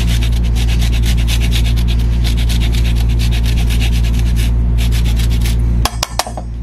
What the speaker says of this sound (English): We're gonna add the lemon zest first before we juice it.